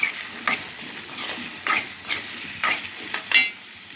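Chopped onions and tomatoes with a pinch of salt sauté in a pan for Chettinad yam masiyal, a soft steady sizzle broken by several sharp scrapes of a spoon stirring at uneven intervals.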